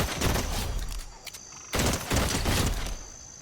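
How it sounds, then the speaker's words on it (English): Fast, repeated gunfire from a quick-reloading gun in the video game Boom Tycoon 2, two dense bursts broken by a short lull, close and fairly loud over game sounds. "I've been using this gun, and it reloads so fast, you don't really need instant reload"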